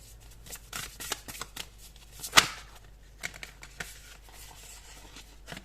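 Tarot cards shuffled and drawn by hand, a run of soft riffling flicks and slaps with one sharper snap midway, close and quiet, no talking.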